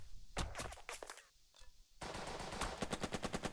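Machine gun fire in the war strategy game Burden of Command: loud, rapid automatic bursts, first in short broken volleys, then a sustained steady rattle of evenly spaced shots.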